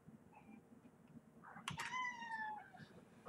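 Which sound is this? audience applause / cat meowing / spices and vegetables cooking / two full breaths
cat meowing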